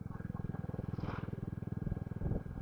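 A Royal Enfield Meteor 350 ridden on a road, its single-cylinder engine thumping in a steady, rapid close pulse with brief wind rush, no speech over it.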